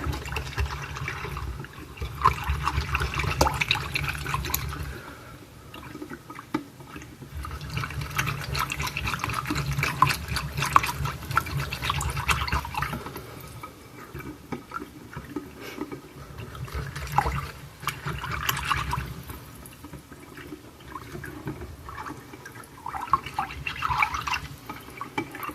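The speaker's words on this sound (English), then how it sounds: "we're going to whisk this together" Ketchup and Worcestershire sauce being whisked together in a bowl, heard up close as wet, sloshing strokes in bursts of several seconds at moderate volume, with no talking.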